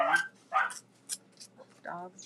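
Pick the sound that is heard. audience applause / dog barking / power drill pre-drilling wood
dog barking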